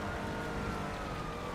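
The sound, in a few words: police car sirens in video game GTA Online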